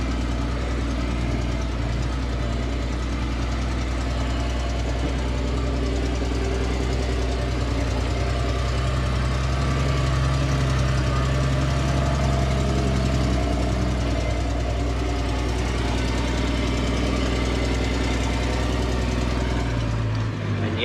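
Engine idling steadily with leaking exhaust manifold gaskets, a continuous low rumble with a faint knocking pulse that holds close and loud for the whole stretch, with no talk over it.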